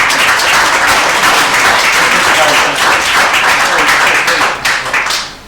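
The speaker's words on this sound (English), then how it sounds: "Give them a round of applause." Applause rises for young Irish dancers at a medal presentation ceremony with the Irish ambassador, a loud continuous wash of many hands clapping that holds steady and tapers slightly at the end.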